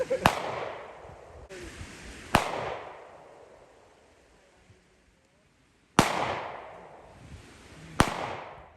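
Handgun shots ring out at target practice during a family concealed carry class: four loud, sharp reports at uneven intervals, each followed by a fading outdoor echo, with a quiet gap in between.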